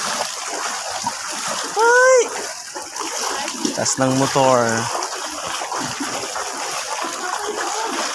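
Water splashes and sloshes around a motorbike pushing through deep floodwater, under ongoing chatter, with a short animal-like yelp partway through.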